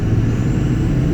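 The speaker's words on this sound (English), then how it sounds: "Oh my god, the spool is so loud." A diesel tow truck's engine rumbles loud and close, with a thin, high turbo spool whine riding steadily above the deep drone for a brief moment.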